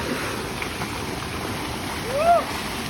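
Water churns in a natural waterfall pool, a constant rushing wash with a brief louder swell near the end.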